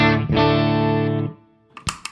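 Electric guitar played through a clean amp setting with a volume pedal rides a single sustained chord for just over a second before fading out, followed by a few soft clicks and plucks.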